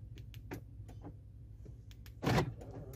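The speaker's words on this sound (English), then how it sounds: "I will test the remote." Mercedes-Benz W211 responding to its remote key, with a few soft clicks and ticks from the central door locks followed by a brief, louder mechanical thunk near the end, heard close by in a quiet setting.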